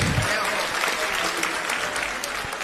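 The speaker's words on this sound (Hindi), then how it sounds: "एक बार ताली तो बजाओ," A crowd at a live religious discourse festival in Mathura breaks into dense, loud applause, the clapping sustained and close throughout.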